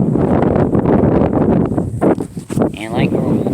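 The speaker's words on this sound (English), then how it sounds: "it's windy out here" Gusty wind buffets a microphone outdoors on a high viewpoint, loud low rumbling throughout with a voice talking over it.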